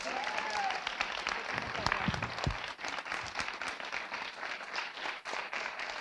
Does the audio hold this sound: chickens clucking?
no